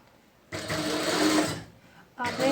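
Sewing machine stitching a folded half-inch neckline edge on a round-neck garment: two close, loud bursts of rapid whirring stitches separated by a short pause.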